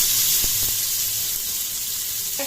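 Garlic fries in hot oil in a pan for a mixed vegetable gravy, giving a steady, close, bright sizzling hiss with a couple of faint knocks.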